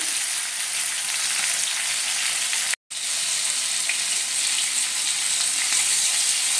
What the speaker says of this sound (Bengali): পনিরটার সঙ্গে সঙ্গে টমেটোগুলো ভাজা হয়ে যাবে